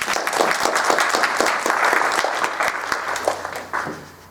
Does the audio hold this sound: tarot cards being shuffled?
no